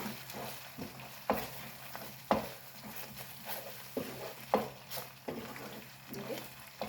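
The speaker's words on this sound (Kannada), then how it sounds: "ಈ ಮಸಾಲ ಸ್ವಲ್ಪ ಫ್ರೈ ಆಗಬೇಕು, ಏಕೆಂದರೆ ಹಸಿ ಇರಬಾರ್ದು, ಸ್ವಲ್ಪ ಫ್ರೈ ಆಗಲಿ." Masala frying in a pan for buttermilk sambar, a soft steady sizzle with repeated scrapes and stirring clinks of a spoon against the pan, close and fairly quiet.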